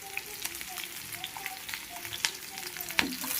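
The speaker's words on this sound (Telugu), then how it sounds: "పోపు కోసం ఆయిల్ హీట్ అయిన తర్వాత ఆవాలు, ఆనియన్స్, కరివేపాకు," A tempering of mustard seeds, onions, curry leaves and dried chilli frying in hot oil, a soft steady sizzle broken by small pops and spattering crackles, fairly quiet and close.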